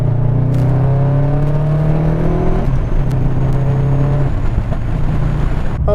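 A Subaru WRX STI engine rises steadily under load while driving, a rising whine over a deep drone, then settles into a steady cruising hum, loud and close from inside the car.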